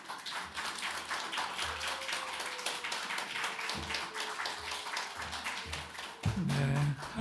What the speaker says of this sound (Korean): 나오실 때 여러분 큰 박수로 환영해 주시길 바랍니다.